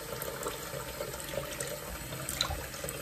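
Water running from a bathroom tap, a soft, continuous splashing hiss that stays steady throughout, with no talking.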